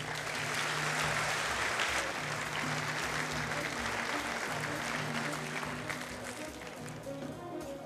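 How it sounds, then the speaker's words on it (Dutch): Sustained applause from an audience at a Dutch award ceremony as a certificate is presented, steady dense clapping throughout that eases slightly near the end. "Uw applaus graag"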